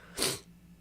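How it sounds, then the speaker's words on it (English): A single short, sharp sneeze close up, followed by quiet. "I feel a sneeze coming along"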